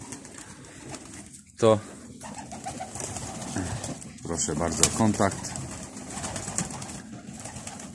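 Pigeons coo in a loft, soft repeated throaty calls close by, with a brief loud burst early on and someone speaking in Polish over the birds partway through.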